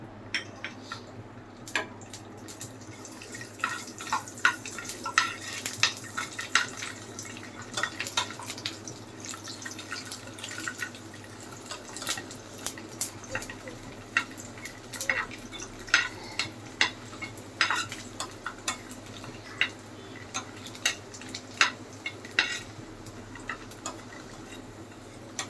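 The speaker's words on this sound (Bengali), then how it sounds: "চুলার আঁচটা কমিয়ে দিয়ে তারপর আমি ভেজে নিয়েছি" Garlic frying in a pan on low heat, with a faint steady sizzle broken by frequent small ticks and clinks of a utensil against the pan, quiet and close, without talk.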